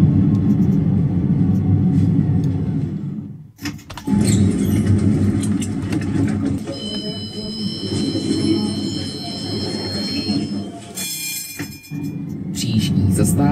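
A Prague T3RP tram in a tram simulator game rumbles steadily and loudly, with a low rolling drone and a few brief rattles and squeals, while someone talks over it.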